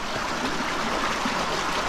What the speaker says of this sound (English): the spring, as you can see, is